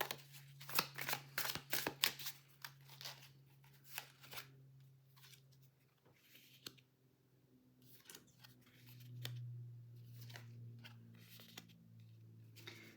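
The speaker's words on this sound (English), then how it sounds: "I'm just going to shuffle a few times" Soft riffling and slapping of tarot cards being shuffled, close up in quick bursts, then quieter handling with faint pauses between.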